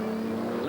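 A 61-year-old Austin Seven racing on a wet tar-seal street circuit, with a brief, steady engine drone held at a constant pitch.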